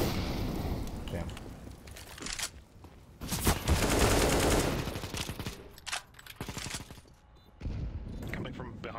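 Rifle gunfire in a Counter-Strike match, with loud bursts of rapid shots and heavy booms coming in several clusters across the stretch, while players talk over the action between volleys.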